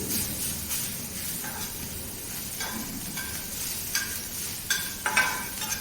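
Coriander leaves sautéed with roasted chillies and garlic in a hot pan, a quiet frying hiss with scattered scraping stirs and a few light clinks of the spatula toward the end, close and without talk.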